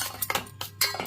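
A spoon stirs tamarind pulp into spice paste in a bowl, giving quick close clinks and scrapes of metal against the dish in a short burst.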